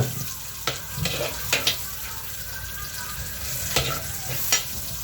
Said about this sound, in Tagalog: Ayan, ang bawang naman ang ihulong natin.